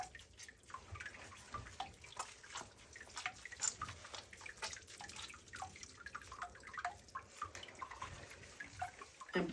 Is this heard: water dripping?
yes